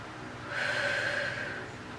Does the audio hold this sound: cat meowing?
no